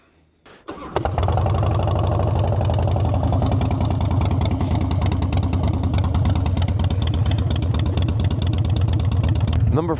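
A Harley-Davidson Softail with short, unbaffled Vance and Hines exhaust pipes starts at about one second, then settles into a loud, lumpy, close-up idle that continues steadily to the end.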